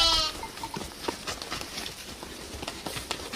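A weak, hungry sheep tied up in a village courtyard in an animated Hindi story gives a short bleat at the start. Soft rustling and clip-clop sounds follow over steady background noise.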